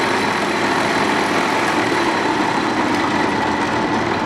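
A South Bend 13x40 lathe runs at 940 RPM, giving a steady, even mechanical hum and whir that stays constant and fairly loud throughout, with no talking.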